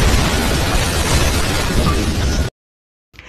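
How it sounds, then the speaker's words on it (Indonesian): A bomb blows up a house in a film: a loud, sustained blast roar with crackling debris lasting a couple of seconds, then cutting abruptly to silence before a faint sound returns. "kemudian dia pun pergi keluar dan langsung meledakkan rumah tersebut"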